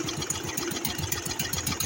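A motor tractor's small engine runs steadily after repair, a close, loud, rapid chugging idle with an even knocking rhythm throughout.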